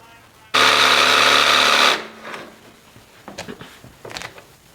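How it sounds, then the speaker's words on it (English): Power tool notching wooden table legs for a homestead kitchen island, one loud burst of about a second and a half, followed by quieter knocks and handling sounds. "We need to notch these out, just so it fits snug in there, from the wooden legs."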